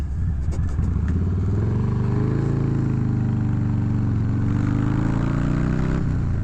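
2020 Harley-Davidson FXLRS V-twin exhaust pulling hard at high revs, a loud, close, continuous rumble whose pitch climbs and shifts tone as the bike accelerates, with no voices.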